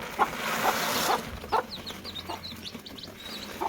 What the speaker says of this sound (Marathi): कोंबड्यांना खायला द्यायला आली इथं पिल्लांना पाणी ठेवून गेली होती